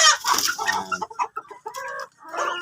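Chickens on a farm raised for meat, clucking loudly and close by in quick, uneven bursts, with a few louder squawks standing out, and no voices over them.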